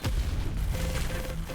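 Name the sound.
explosion in a video game match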